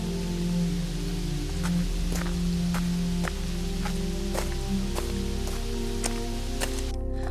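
Steady rain pattering on surfaces with scattered sharper drips, a continuous hiss and low rumble running throughout, with no voices.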